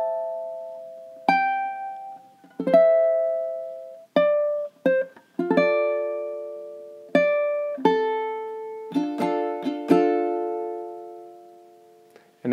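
Ukulele playing measures 29 to 32 of a song, a bouncy sequence of plucked and strummed chords with short gaps, clear and close, no voices.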